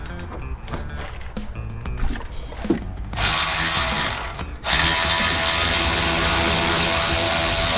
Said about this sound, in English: Let's get us a ratchet.